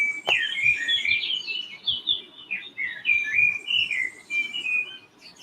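Birds chirp and whistle outdoors in a run of bright, warbling phrases, fairly close and clear above a low rumbling background.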